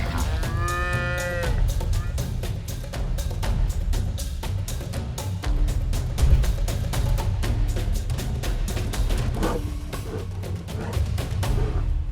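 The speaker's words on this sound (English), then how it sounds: "The moment a lion attacks a cow in Gujarat is captured on video." Cattle lowing repeatedly during a lion attack on a cow in Gujarat, India; loud, drawn-out moos carry over a steady, rhythmic background with no talk.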